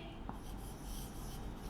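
Marker or chalk scratching steadily across a classroom board during a chemistry lesson, a continuous faint rubbing stroke with no talking.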